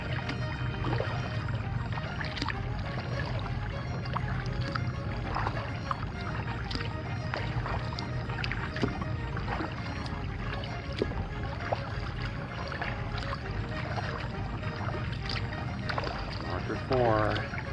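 A large kayak paddle dips and pulls through water at high tide near Weedon Island, with soft splashes and drips at irregular intervals under a faint steady background hiss.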